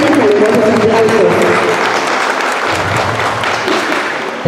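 Loud, steady applause from a preschool closing-ceremony audience fills the whole stretch, dense clapping with crowd murmur and a few voices at the start, easing slightly toward the end.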